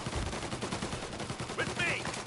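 Mafia Definitive Edition gunfire, a rapid string of quiet, close-spaced shots like a short automatic burst running through the clip, with faint voices and game ambience underneath.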